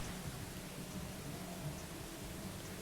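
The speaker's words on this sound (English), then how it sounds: "Started raining pretty heavily." Heavy nighttime rain falls as a dense, steady, even hiss with no breaks and no voices, filling the whole stretch.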